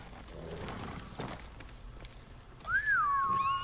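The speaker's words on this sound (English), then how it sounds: "Bro, I had to call my horse. You heard me whistle?" A player character's rising-then-falling whistle calls a horse in the samurai game Ghost of Tsushima, one clear sustained note arriving late over soft ambient wind and faint footsteps.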